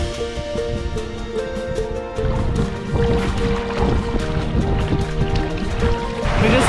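A kayak is paddled across open ocean water from Kailua Bay and Lanikai out toward the Mokulua islands off Oahu, Hawaii. Steady splashing and watery sloshing continue throughout, with a tonal hum underneath.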